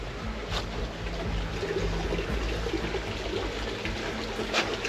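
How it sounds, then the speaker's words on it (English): Running water trickles and rushes steadily in a broad, continuous wash near a remote island, moderately loud outdoors, with a few faint knocks and no talking. "I can really start hearing the water now though."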